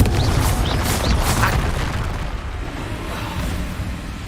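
Confringo fire spell exploding in Hogwarts Legacy gameplay, a loud booming blast with crackling bursts that fades into a rumbling tail.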